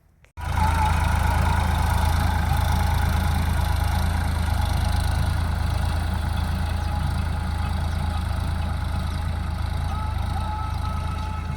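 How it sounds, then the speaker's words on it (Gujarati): A steady, rumbling tractor engine idles close by, its low drone holding even and unbroken from start to finish with no voices. "ટ્રેક્ટરને પણ તમે જોઈ લ્યો."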